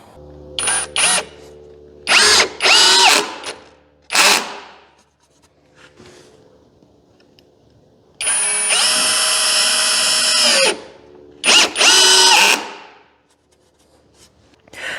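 VEVOR cordless brushless drill driver sinking screws, close and loud, in several short whirring bursts and one longer sustained run, separated by quiet pauses, with no talking.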